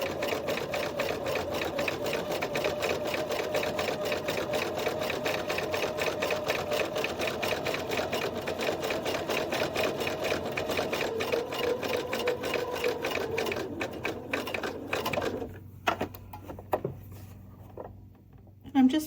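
A sewing machine stitches binding onto a quilt, a close, fast, steady mechanical whir and rapid needle clatter running for a long stretch, then slowing and stopping near the end, with speech in the background.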